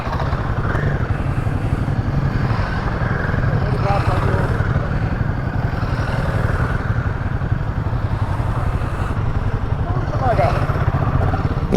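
A Royal Enfield Himalayan 450 single-cylinder engine rides off road with a constant, close, low rumbling drone and wind rush that barely changes throughout, with a voice faintly mixed over it.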